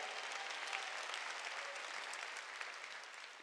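Applause from a church congregation at a Wednesday worship service at Jesus Central Church, a dense steady patter of many hands filling the whole stretch at moderate level, with no talk over it.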